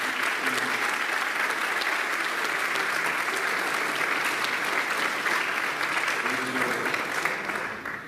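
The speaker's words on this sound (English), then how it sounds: "give them a big round of applause for our students" A large crowd at a 12th grade awards ceremony claps continuously and evenly, a dense sustained wash of applause that holds steady before tapering slightly at the end.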